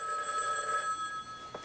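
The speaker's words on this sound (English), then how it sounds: "Phone's ringing again." A telephone bell rings indoors in a 1980s soap opera scene, one steady sustained electronic ring filling the moment, clear and close with no voices over it.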